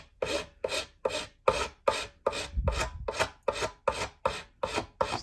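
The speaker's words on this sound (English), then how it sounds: "At least I know I can file it and sand it" Filing a J-B Weld SteelStik epoxy repair on a Santa Claus figure, about a dozen evenly spaced rasping strokes, close and fairly quiet, with no other sound.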